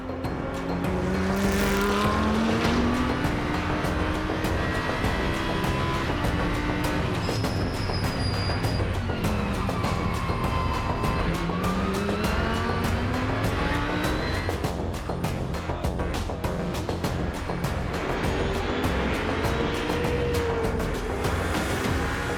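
Audi R8 LMS Ultra GT race car lapping the Spa 24 Hours circuit, a continuous loud engine roar with rising and falling pitch as it shifts through gears, sustained throughout with no talk.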